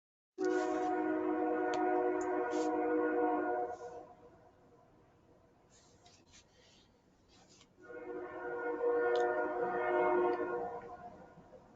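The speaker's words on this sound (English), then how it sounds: "It's weird to hear the train whistle in my house and then hear it through Zoom" A train whistle blows in two long, steady harmonic blasts, the second after a few seconds' pause, heard from a moderate distance over faint background noise.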